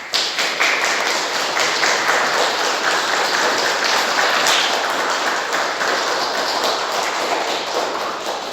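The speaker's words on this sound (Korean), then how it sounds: "함께 박수 축하드리겠습니다." A church congregation claps together during a Sunday worship service to welcome a new member, a dense and steady roomful of applause that holds at an even level throughout and tapers only slightly at the end.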